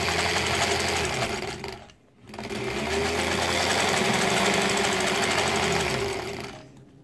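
Sewing machine stitching improv-pieced quilt pieces for a home-themed quilt, a loud steady whirring drone running continuously with one brief pause near the two-second mark before resuming.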